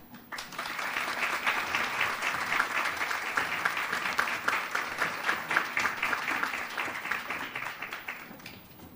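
An audience at a Making a Difference Luncheon gives sustained, loud applause to welcome the keynote speaker, steady clapping that swells and fades near the end.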